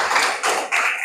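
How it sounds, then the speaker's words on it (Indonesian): Short burst of applause from a classroom for a student named Dimas, quick close claps in three brief surges, loud and without talk. "beri dulu aplaus untuk Dimas"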